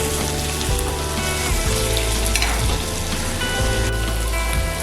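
Paneer cubes frying in a pan over medium flame, a steady dense sizzle with a low hum of music underneath, loud and continuous with no talk.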